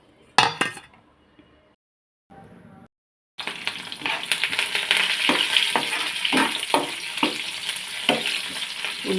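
Onions, green chillies and curry leaves hit hot oil in a pan after a few clinks of utensils, then sizzle and fry loudly and steadily while being stirred with occasional scraping taps.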